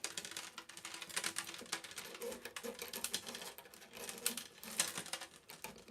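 Old steel strings on a Martin D35 acoustic guitar rattle and clink lightly as they are pulled off during a restring, a busy stream of small metallic ticks and scrapes, fairly quiet and close.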